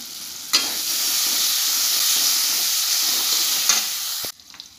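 Tomatoes and spices fry in a pan for egg bhurji, giving a steady close sizzle that starts abruptly, with brief scraping stirs, then cuts off near the end.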